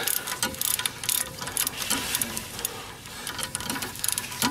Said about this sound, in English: it's like he's got an electric weed eater.